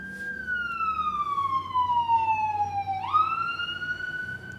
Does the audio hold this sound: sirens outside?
yes